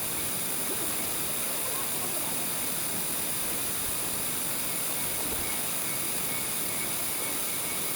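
Buruwisan Falls in Siniloan, Laguna roars as a steady, unbroken wash of falling water, even and continuous throughout with no voices.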